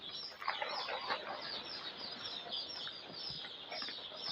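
Four-day-old chicks peep continuously, with black, yellow and reddish chicks mixed together: a thin, high chorus of overlapping cheeps, quiet and steady throughout, with no voices.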